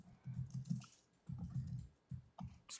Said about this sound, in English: typing back there